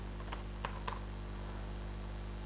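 A few quick, light keypresses on a computer keyboard while typing code, soft clicks over a steady low hum.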